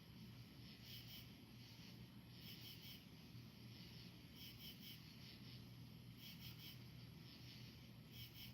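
Faint nighttime chorus of cicadas and frogs pulses in regular rhythmic bursts, buzzing in repeated clusters about every two seconds over a low steady background hum, distant and soft.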